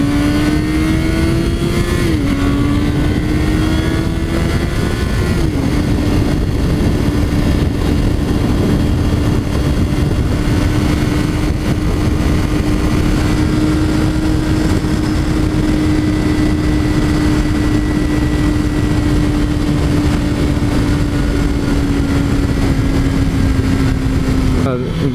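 A 2017 Honda CBR1000RR sportbike in riding Mode 3 revs hard up close. The engine climbs in a couple of quick throttle blips, then holds a long, loud, steady high-rpm drone before easing off slightly.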